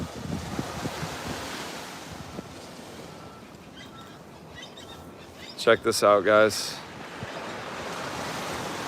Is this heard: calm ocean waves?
yes